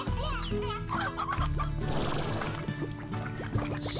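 Chickens cluck and chatter in the video game Slime Rancher, several short close calls over game sounds and effects, with a pouring, liquid-like wash in the middle.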